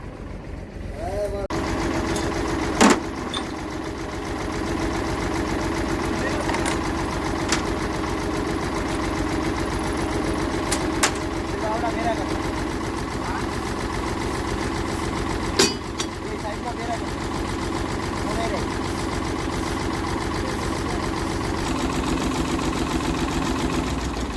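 A smoking tractor engine idles steadily and close by on a farm, a continuous low chugging drone, with a couple of brief knocks and faint voices in the background.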